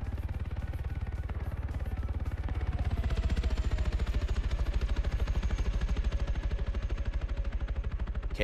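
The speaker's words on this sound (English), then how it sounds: "KA-60 still flying overhead." A KA-60 helicopter passes overhead in a military video game, its rotor chopping in a dense rhythmic pulse mixed with bursts of machine-gun fire, loud and continuous throughout with no talking.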